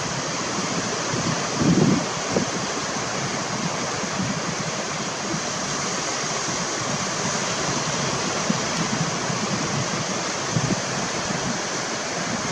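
Strong outdoor wind buffets the microphone with a constant, loud rushing roar and a few low thumps of gusts, going on alone without any talk.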